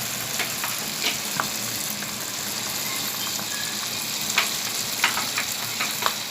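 A second batch of dragon chicken fries in hot oil with a steady, dense sizzle, while occasional sharp clinks and scrapes of stirring pop through, louder near the end.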